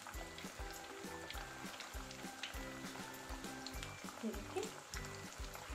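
Cutlets frying in hot oil give a steady, faint sizzle beneath louder rhythmic background music.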